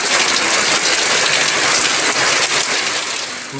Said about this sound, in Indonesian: Benar-benar hujan deras